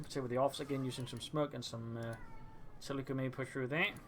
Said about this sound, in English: My apologies about the cat in the background.